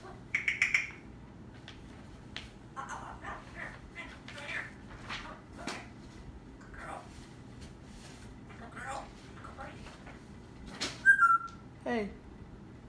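A pet bird gives short, high whistled notes near the start and again near the end, with a person talking in between.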